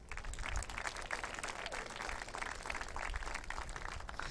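Steady applause from an awards ceremony crowd fills the space, dense and sustained clapping at moderate distance with no voices standing out.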